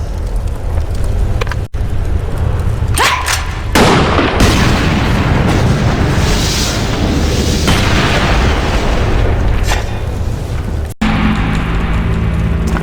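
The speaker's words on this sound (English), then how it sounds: "There are explosives set up around the operations center as a last resort. Blowing them up should distract them" Explosives blowing up in the video game Blade & Soul: a loud, continuous rumbling blast with layered booms and pops that fills the whole stretch, heavy low end throughout.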